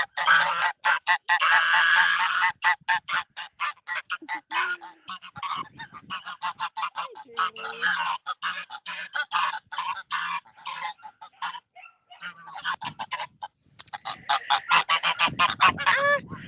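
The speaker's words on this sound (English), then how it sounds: "That goose is about to get bit by a gander." Geese honk loudly and repeatedly in rapid, dense series, with a few pauses and faint low sounds in between.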